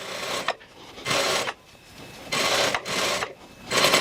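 A sewing machine stitches pocket bags for a dress, running in three or four steady bursts separated by short pauses, close and fairly loud with no voices.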